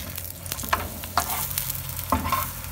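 A maize roti cooks on a tawa with butter and oil, giving a soft steady sizzle broken by a few sharp scrapes and taps from a spatula, close and without speech.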